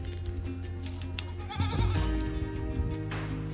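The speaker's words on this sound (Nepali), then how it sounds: "बाख्रा पनि गाई अघि धुइसकेको यहाँ पनि छ बाख्रा" Goats bleat at a rural village farmstead where cows are also kept, several wavering calls rising over a steady background, loudest in the middle stretch and close to the listener.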